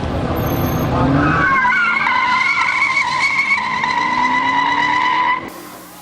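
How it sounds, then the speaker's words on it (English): Race cars at Barberton Raceway Park, including a pace car, roar through turns with loud squealing tires and a sustained engine whine that rises and then cuts off near the end, close and intense. "Coming through turns 1 and 2, it will be the pace car, Rob Petrus with the lead down into turns 3"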